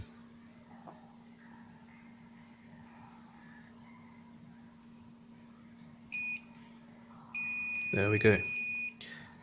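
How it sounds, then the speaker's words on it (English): At the magnetic switch of a starter motor under overhaul, a multimeter gives short electronic beeps: a brief one, then a longer steady tone, heard close and clear over low hum while someone says a few words. "So this time we should get a continuity sound."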